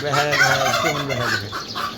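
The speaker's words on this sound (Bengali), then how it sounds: "এই হলো দেশি মুরগি" Desi chickens and a turkey calling on a rooftop, loud close clucking and gobbling with harmonic cries that overlap continuously throughout, no speech.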